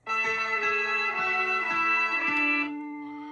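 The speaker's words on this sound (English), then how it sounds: "So I got a mellow piano first." Mellow piano plays a simple keys part, chords repeating with soft low notes underneath, clear and alone, then the final chord fades out.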